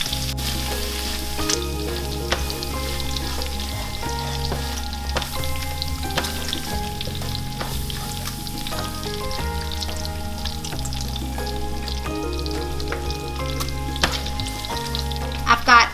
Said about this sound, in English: I'm gonna add in about half of it and stir it around